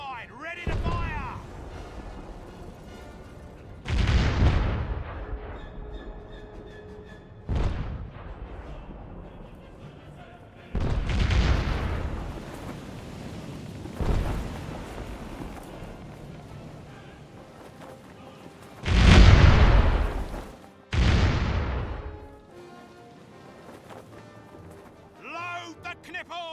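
Repeated heavy cannon broadsides from a sailing ship in the pirate game Caribbean Legend: Age of Pirates, several booming blasts spread across the clip with rumbling decays, one especially loud near the end, under intermittent talking.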